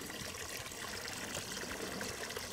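Water trickles and splashes steadily as it fills a homemade bell siphon, a continuous close broadband wash of flowing liquid with no talking.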